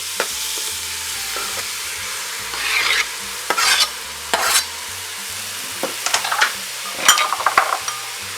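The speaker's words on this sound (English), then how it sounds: "Give it a stir." Tomatoes frying in a pan for chicken curry and getting stirred, a steady close sizzle broken by several scraping, clinking strokes of a utensil against the pan bottom.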